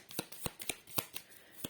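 A new deck of oracle cards is shuffled by hand, giving quiet, close crisp riffs and taps in an irregular rhythm, about eight brief strokes in under two seconds.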